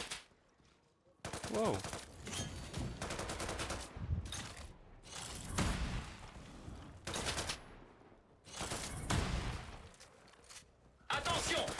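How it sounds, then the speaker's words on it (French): Machine gun fire in the video game Off the Grid comes in loud, rapid bursts separated by short gaps, and a voice briefly exclaims over the shooting. "C'est mitrailleuse ça?"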